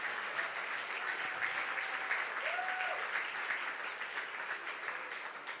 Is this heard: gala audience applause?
yes